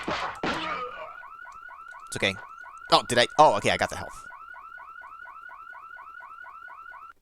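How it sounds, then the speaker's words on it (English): A car alarm set off in a PlayStation video game demo chirps in a steady, repeating two-tone pattern that carries on alone after a player speaks over its start alongside brief game sound effects. "Oh, I set off the car alarm."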